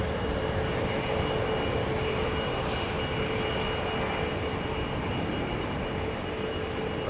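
Steady jet engine roar from an airliner with Pratt & Whitney engines at London Heathrow Airport, loud and unbroken, with a faint high whine flickering briefly and no talking.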